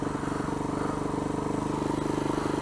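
A Kawasaki KLR 250 motorcycle engine idling loud and close with a rough, pulsing thump, the revs wavering rather than climbing sharply, a steady near mechanical drone without speech.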